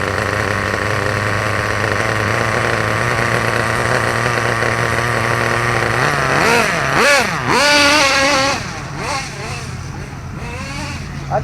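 Kyosho USA1 nitro RC truck engine buzzing at a steady, loud idle, then revving up and down in several rising and falling bursts close by.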